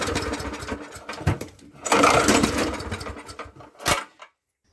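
A Murray lawn mower engine sputters and coughs while being cranked, with uneven bursts of firing that briefly catch and then die away, close and fairly loud.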